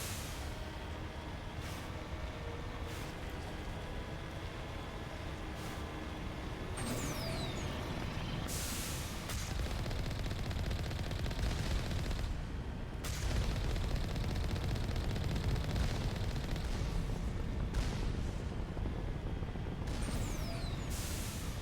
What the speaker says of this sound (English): I think their projectiles are faster than the usual turrets